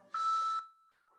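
Electronic beep from a workout interval timer during an outdoor group fitness session, a single sustained tone of about half a second followed by a fainter trailing tone, fairly quiet and with no talking.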